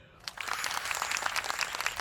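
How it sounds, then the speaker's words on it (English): Crowd applause and cheering sound effect, a dense wash of clapping that swells in after a brief silence and holds steady, fairly faint, with no voices. "The crowd goes wild"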